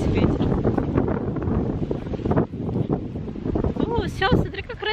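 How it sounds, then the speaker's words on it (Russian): Gusty wind buffets the microphone in a continuous low rumble while a person talks over it and a higher voice chimes in near the end. "ветер никак не останавливается"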